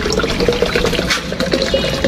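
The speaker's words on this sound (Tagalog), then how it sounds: "ibubuhos ko muna itong tubig dito sa container" Water poured from a 500 ml measure into a container while mixing garden insecticide, a loud close splashing gush that runs steadily for about two seconds.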